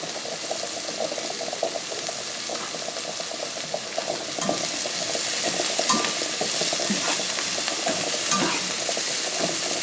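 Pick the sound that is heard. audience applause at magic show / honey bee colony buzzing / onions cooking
onions cooking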